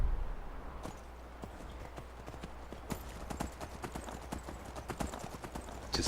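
Horse hooves clip-clop steadily in the video game Skyrim as a horse is ridden up a rocky mountain pass, a fairly quiet run of close, rhythmic hoofbeats over a faint background hum.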